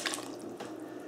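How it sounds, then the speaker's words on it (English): Water poured into a stockpot over veal bones for stock, a soft continuous splashing and gurgling, fairly quiet and close, heard alone. "so we cover everything with some water"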